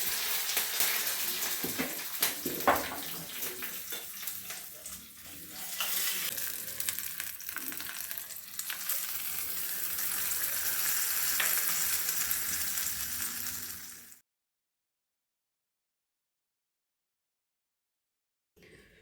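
Curry leaves and asafoetida sizzling in hot oil for a Kannada egg dosa recipe, a loud, steady crackling fry with bursts of popping that runs for about fourteen seconds and then cuts to silence.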